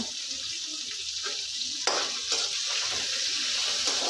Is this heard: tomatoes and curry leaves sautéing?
yes